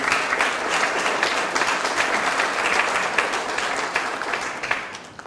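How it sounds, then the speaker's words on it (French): Loud, sustained applause from an audience at a New Year's wishes ceremony in Pineuilh, honoring local associations, with many hands clapping densely and evenly before tapering slightly at the end. "On peut également les applaudir très fort."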